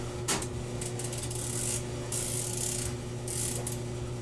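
A mil-radian riflescope elevation turret dialed by hand, giving a few short bursts of rapid ratcheting clicks close to the mic, with pauses between turns and no speech.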